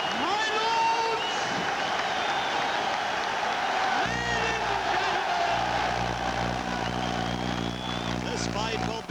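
Boxing arena crowd at a world middleweight title fight, Hagler versus Minter, roaring and applauding in a dense, sustained wash of cheers, with a steady low hum entering partway through.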